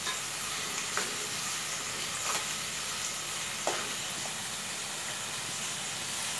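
Onions sizzling in a pan as they fry until pink, a steady soft hiss with a few light scrapes of stirring, fairly faint and with no talking.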